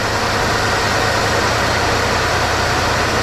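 A barn-find Chevrolet Chevelle engine idles at 1200 RPM, a constant, loud, close rumble that stays steady throughout with no talk over it.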